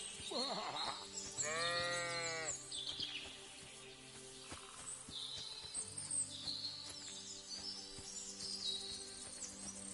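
Sheep bleat in a wavering, repeated call, loud and close at the start and then fainter, while birds chirp and other farmyard sounds carry on in the background.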